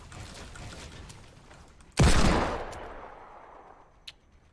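A single loud gunshot in Fortnite cracks out mid-clip and decays with a ringing tail, followed by a faint later click over quiet game ambience.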